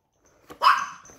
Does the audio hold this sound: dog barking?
yes